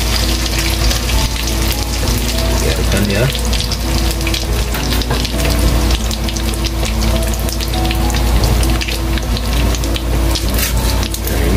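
Rempeyek teri crackers sizzle steadily in hot oil, a loud, dense, continuous frying hiss with someone speaking briefly over it.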